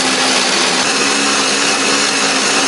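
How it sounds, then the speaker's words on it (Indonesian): Kitchen blender grinding a spice paste with a little water or oil, a loud, steady whirring roar that carries unbroken from start to finish. "Aku menghaluskannya menggunakan blender, beri sedikit air ataupun minyak juga boleh"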